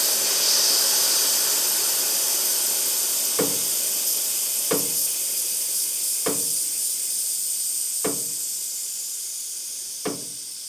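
Air shocks on a classic Buick being deflated, a steady broad hiss of escaping air running throughout with five sharp clicks or taps spaced a second or two apart, no talking.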